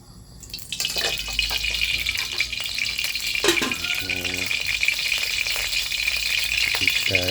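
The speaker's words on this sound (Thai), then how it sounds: "แรกเราก็ต้องใส่น้ำมันก่อนเนาะ น้ำมันหมูก่อนถึงจะอร่อย" Pork lard heats in a pan with a loud, continuous sizzle and crackle throughout, plus a few sharper spits and pops midway. No voices are heard.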